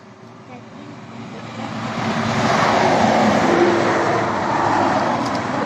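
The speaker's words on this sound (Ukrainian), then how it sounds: "Боже, як вони ганяють на цій трасі" Cars speed past on a highway running by a village near a pedestrian crossing, a broad roar swelling as a vehicle approaches and holding loud before easing slightly, heard from the roadside.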